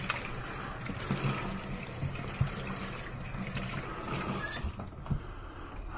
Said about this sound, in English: Now we're going to rinse it off again